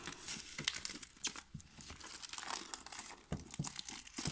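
Plastic foil wrapping crinkles and tears close by while a Rammstein Zeit Deluxe Limited Edition CD is unboxed, a busy stream of crackling rustles with sharper crunches throughout and no talk.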